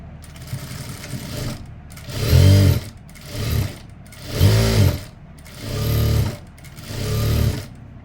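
A sewing machine stitching chudithar lining runs in five loud, rhythmic bursts with short pauses between them, close up and with no talking.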